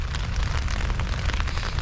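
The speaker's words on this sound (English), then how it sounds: "It's just a light rain" Light rain pattering on a tent at a windy campsite, a dense steady crackle of drops close overhead with a low rumbling background and no voices.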